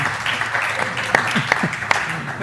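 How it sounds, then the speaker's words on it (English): Scattered applause from a conference audience at a hydrogen-themed country session, loose and uneven with a few sharper individual claps standing out, mixed with murmuring voices. "that response deserves a round of applause"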